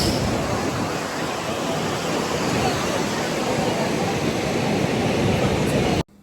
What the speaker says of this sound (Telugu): చూడండి మా వైజాగ్ ఆర్కే బీచ్